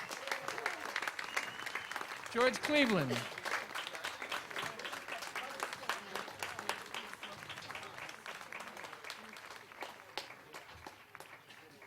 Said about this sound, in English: If you would please keep clapping for Mr. George Cleveland.